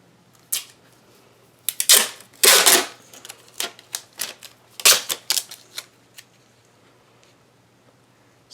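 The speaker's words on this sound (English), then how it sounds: "take your Tyvek and you're just going to run a piece of tape" Adhesive tape pulled and run across a sheet of Tyvek for a traveler's notebook insert: a series of close, crisp crackling rips and taps, some bursts longer than others, with no talk.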